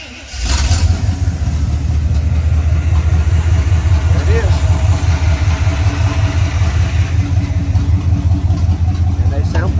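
A truck with a 305 V8 engine starts and settles into a loud, steady, rumbling idle with a rhythmic low throb, close by, and someone speaks briefly over it.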